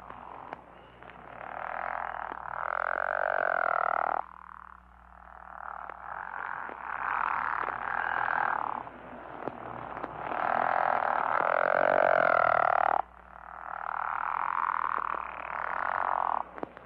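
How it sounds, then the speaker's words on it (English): Pickerel frog calling in a Michigan spring wetland: low, sustained growling snores in long bursts, repeated several times with short gaps, fairly close and clear, with no talk over it. "it's a low sustained growling is what you're thinking of when you're thinking of the pickerel"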